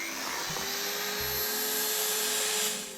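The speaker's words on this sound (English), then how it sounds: "So I've just got a belt sander here with I think it's 120 grade belt on it" A belt sander fitted with a 120 grade belt grinds across foam on a vintage 1980s Selle Italia Turbo bicycle saddle, giving a steady, loud whining drone that holds throughout with no speech.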